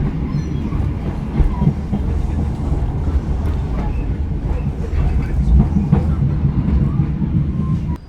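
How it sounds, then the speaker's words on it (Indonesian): Serayu passenger train departing Banjar station, a steady loud rumble of rolling wheels with rhythmic clickety-clack over the rails throughout, close and continuous. "kereta api Serayu diberangkatkan dari stasiun Banjar"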